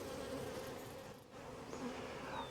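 Honey bees hum steadily around a hive frame in a queenless cell-builder colony, a dense continuous buzz close by, with the odd insect passing nearer and no talk.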